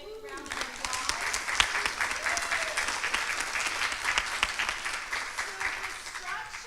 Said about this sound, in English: So if we could just give them a quick round of applause.